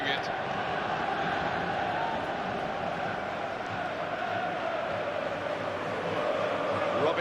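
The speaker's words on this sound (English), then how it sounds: "Great passing, and the crowd really enjoying it." Steady, dense roar of a stadium crowd cheering during a FIFA 14 football match with Bournemouth, a continuous even wash of noise throughout with commentary voices mixed in.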